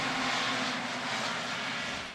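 A hovercraft runs on its air cushion, driven by a propeller, giving a continuous loud, broadband engine and propeller drone with a steady low hum, close and unbroken.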